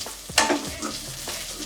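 Ginger garlic paste sautéing in a pan for a roadside-style mushroom dish, a near sizzle with a sharp stirring scrape midway and softer frying crackle continuing, no voices.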